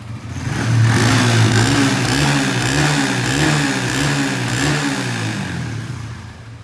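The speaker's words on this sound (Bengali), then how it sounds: "তো স্টার দিয়ে দেখাইলাম। সাউন্ড ঠিক যেভাবে মোটরসাইকেলে থাকা দরকার ঠিক এমনটাই আছে।" A Suzuki Bandit FI ABS motorcycle engine runs close by after starting, a loud, steady mid-pitched rumble that swells slightly and then eases back toward idle.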